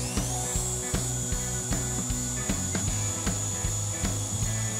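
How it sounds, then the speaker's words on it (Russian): A power drill whirs steadily while boring a hole, with a regular rattling, clicking pulse running through the close, continuous grind. "Сверлим отверстие."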